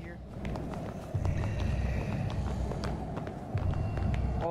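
Horse footsteps running in White Noise Online, a steady galloping patter of hooves that grows louder partway through, heard under continuous talking.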